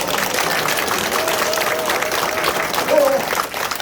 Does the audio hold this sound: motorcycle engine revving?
no